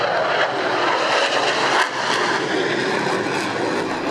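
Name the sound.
F-15 jet and Apache helicopter aerial display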